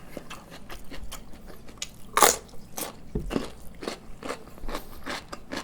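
Crunchy raw vegetables such as carrot bitten and chewed up close during a diet vegetable mukbang, one sharp crisp bite followed by a steady run of wet crunching chews.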